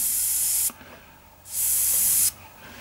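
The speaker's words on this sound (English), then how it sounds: "my airbrush would be a little bit happier if I put a bit more air pressure in there" An Iwata HP-M1 airbrush sprays paint in two loud, close, steady hissing bursts of under a second each, split by a short quiet gap, with no talking.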